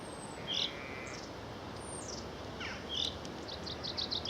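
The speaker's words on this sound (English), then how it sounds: "Not that bird, which is a chaffinch" Chaffinch song in the open air: a few bright, faint phrases and trills over a steady hiss of insects and distant background.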